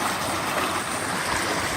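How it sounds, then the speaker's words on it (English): A creek flows beneath a road on the way to Mt. Whitney near the Alabama Hills, giving a loud, steady rushing wash of water close by, continuous and unbroken, with no talking. "there's a creek coming through here too"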